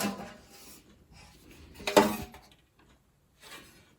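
Old rusty tin with a hinged lid being opened: scattered soft metallic scrapes and handling noises, then one sharper clanking pop as the lid comes free, followed by a brief quiet and a faint rustle.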